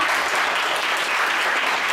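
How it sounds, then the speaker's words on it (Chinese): A church congregation at a Sunday Mandarin worship service breaks into applause, a dense, even clapping that fills the whole moment without pause, loud and close, with no voices over it. "我们给他们一个掌声，好不好？"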